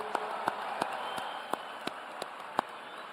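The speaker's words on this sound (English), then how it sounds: "Can we give these guys a round of applause?" A ballpark crowd applauds White Sox greats at a ceremony honoring Ozzie, a steady distant wash of crowd noise with a few sharp claps standing out at scattered moments.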